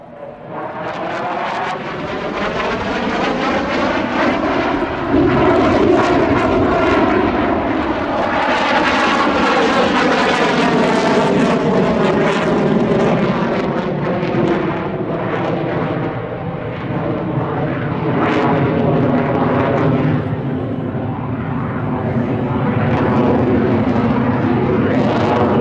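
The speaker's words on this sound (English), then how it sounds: "When flying in a straight line, the MiG-21 is very fast." A MiG-21 delta-wing jet fighter flying, a loud, sustained engine roar with shifting tonal whine that swells and recedes slightly as it passes, heard alone throughout.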